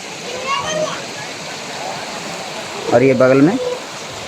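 A waterfall near a resting stop on the pilgrimage route to Gupta Dham sends up a steady, constant rush of water, heard under someone talking.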